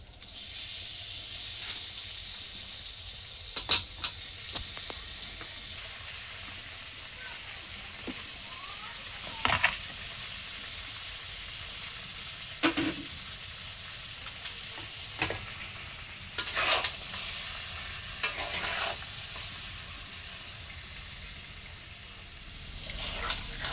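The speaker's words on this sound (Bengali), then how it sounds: "এটা ফুটে গেছে, এবার আমি আমগুলো দিয়ে দিব।" Raw mangoes added to a boiling sugar syrup for chutney and stirred in a pan: a soft steady bubbling sizzle with intermittent scraping and clattering stirring strokes, fairly quiet throughout.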